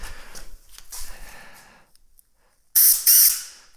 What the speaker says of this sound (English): Compressed air through both sides.